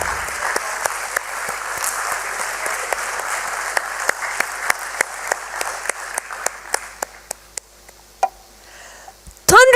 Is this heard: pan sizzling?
no